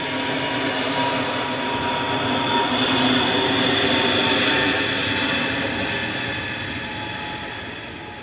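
EasyJet jet airliner at Manchester Airport, a loud steady engine roar swelling in the middle and slowly fading away toward the end, heard alone without voices.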